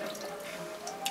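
Strained water kefir liquid runs down a sink drain in a steady, splashing trickle with a few brighter drips, close by and without talk.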